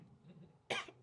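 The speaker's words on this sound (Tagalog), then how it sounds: "Pasensya na, may ubo ang papa mo." A single short, sharp cough, close and fairly loud, following a brief stretch of faint background noise.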